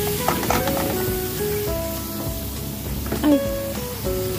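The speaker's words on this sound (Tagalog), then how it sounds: "Ilalagay ko na yung giniling." Ground meat sautéing with spices in a pan gives a close, continuous sizzle and frying hiss, with a few brief stirring scrapes.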